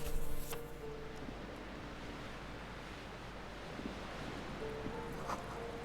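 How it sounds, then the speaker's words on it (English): Waves crash and wash continuously in the dark setting of the video game Disco Elysium, a steady broadband surf roar with faint wind, heard alone at moderate loudness. "Waves crashing in the darkness."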